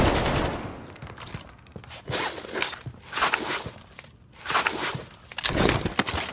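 Gunfire rattles in a Call of Duty Warzone match, with several sharp bursts and single shots spread across the few seconds amid quieter gaps, moderately loud with no talk over it.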